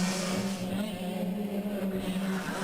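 Lightweight clubman sprint karts race round a hill at Bayford Meadows, giving a continuous buzzing engine drone with steady tone, fairly loud and sustained without a break.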